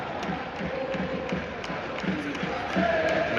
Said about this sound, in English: And the crowd are getting behind the team